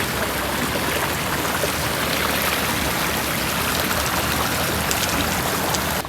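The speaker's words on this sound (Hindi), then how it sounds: "ये जो आपको पानी नज़र आ रहा है ये बर्फ़बारी वाला पानी है, जो कि अब पिघल पिघल कर पानी की शक्ल में तब्दील हो रहा है" Snowmelt water runs steadily toward farm fields, a loud, continuous rushing wash of flowing water, close and unbroken with no voices.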